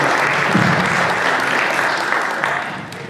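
A talent show audience applauds steadily in a dense, sustained wash of clapping that tapers slightly toward the end.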